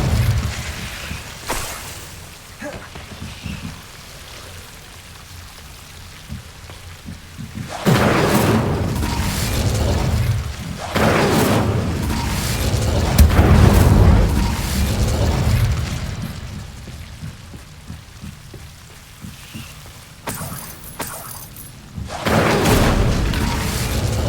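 Incendio fire spell blasts erupt in repeated booming bursts, several loud whooshing explosions separated by brief lulls amid game combat.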